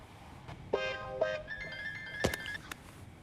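Phone keypad being dialed: a string of separate electronic tone beeps in steady sequence, a short sustained tone, then a brief thump, fairly close and clear with no talking.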